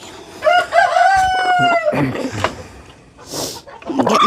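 A rooster crows loudly and close by with a long drawn-out call, followed by chickens clucking in short bursts near a backyard coop. A brief hiss of noise comes before the clucking picks up again.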